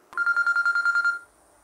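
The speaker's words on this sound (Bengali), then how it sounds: "বলতে বলতে কিন্তু ফোন চলে এসেছে।" An incoming call on a phone rings as a quick run of about ten evenly pulsed electronic tones. The ring is close and clear and stops after about a second.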